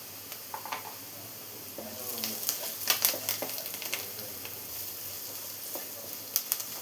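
Sweet potato pieces with crushed chilli stir-frying in a pan over low heat, a soft steady sizzle with scattered scraping and stirring taps, faint and close.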